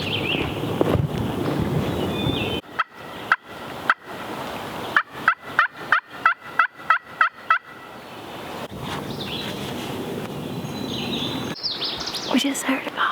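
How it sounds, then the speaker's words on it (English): A wild turkey gobbler gobbles during a spring hunt in the woods, a loud run of sharp, rapid rattling pulses that stands out over soft outdoor background and faint voices. "We just heard a gobble."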